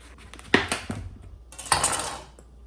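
A spoon scrapes the stringy flesh and seeds out of a halved pumpkin, giving a few sharp scratchy strokes with short pauses between them, close and fairly quiet.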